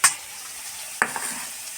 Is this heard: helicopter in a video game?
no